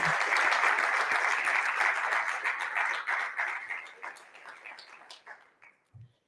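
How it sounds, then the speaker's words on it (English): An audience at a live event applauds with a dense wash of clapping that gradually thins out and fades over several seconds, ending in a few scattered claps. "she deserves a round of applause."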